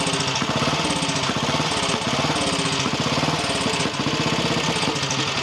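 A BSA Gold Star motorcycle engine with a GP carburettor, on its main stand just after a first-kick start, runs with a steady, even rhythmic thumping at close range, filling the clip without any speech.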